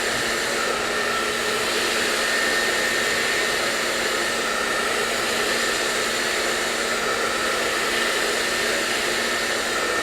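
A hair dryer blows steadily on hair during a blow-dry, a loud, constant airy roar with no pauses for the whole stretch.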